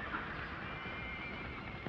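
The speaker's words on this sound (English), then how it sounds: "Diablo's still a wild horse" Horse Diablo, a wild horse, neighing over a steady noisy background, with a brief whinny near the start and no voices heard.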